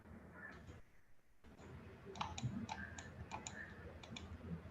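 A computer mouse clicks several times in a sparse, uneven series over a low background hum, as a user tries to click in software for building an options spread.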